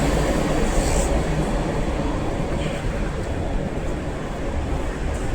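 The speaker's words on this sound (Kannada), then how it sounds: "ಶ್ರೀ ಸತ್ಯ ಸಾಯಿ ಮೆಟ್ರೋ ಸ್ಟೇಷನ್ ಕೆಳಗಡೆ ಹೋಗ್ತಾ ಇದ್ದೀನಿ" A metro train rumbles at Sri Sathya Sai metro station, a loud, steady rolling roar close by that lasts the whole stretch, with no clear voices over it.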